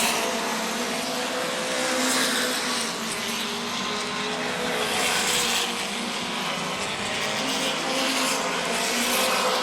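Race cars on a weekly oval short track at Auburndale roar past in a loud continuous engine drone, with swelling passes and faint tire hiss over several seconds and no voices.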